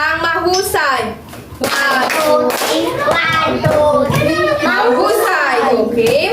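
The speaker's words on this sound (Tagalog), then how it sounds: "bigyan ninyo yung sarili ng 3 palakpak, 3 padyak at isang mahusay." A classroom of students on their feet in a Philippine class clap three times and stomp three times, with sharp hits mixed into loud, overlapping children's voices chanting and shouting together close by.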